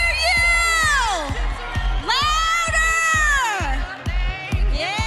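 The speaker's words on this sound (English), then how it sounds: "Cheer these guys on loud." A large arena crowd at a senior men's gymnastics competition cheers and shouts loudly and continuously over thumping dance music with a steady bass beat and singing.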